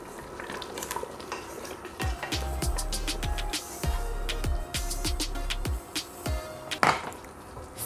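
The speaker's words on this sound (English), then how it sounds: "Give it a stir." A spoon stirring thick egusi soup with whole crayfish and stockfish in a metal pot gives repeated scraping and clinking strokes at a steady rhythm, close and moderately loud, with a sharper knock near the end.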